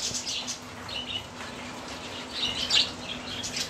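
Small finches chirp and tweet in short, scattered bursts in a nesting cage, with bright high calls of moderate loudness over a steady low hum and no talking.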